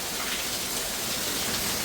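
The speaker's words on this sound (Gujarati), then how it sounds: "રાત પડી ગઈ ને આ વરસાદ ચાલુ થઈ ગયો." Steady rain pours down at night, a dense, even hiss of drops on surfaces with no break, fairly loud and close.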